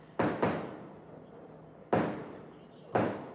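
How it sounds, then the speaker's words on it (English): Fireworks going off outside, heard as four sharp booming bursts spaced irregularly, each decaying into a lingering rumble over a low steady background. "I'm hearing fireworks out here."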